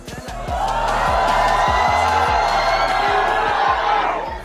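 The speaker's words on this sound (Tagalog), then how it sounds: "Hiyawan ang nanaig sa Hydro Super Club" A large crowd cheers and whoops continuously at a Red Bull Dance Your Style battle in a Manila club, loud and sustained over a thumping beat, then fading at the end.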